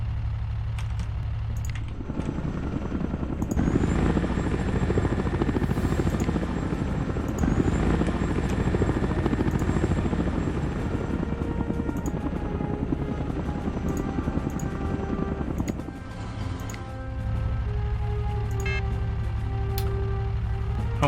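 Helicopters in a video game whir with a loud, steady rotor drone that swells and thickens midway before settling back, constant throughout with faint clicks and no speech.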